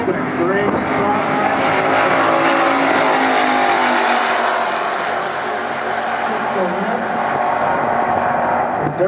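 A drag racing roadster's engine revs hard at the starting line of a final-round event, a loud, sustained roar with rising and falling pitch while an announcer talks over it.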